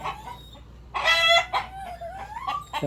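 Hens that lay green eggs cluck and squawk on a farm, a close burst of loud cackling followed by softer intermittent clucks and calls.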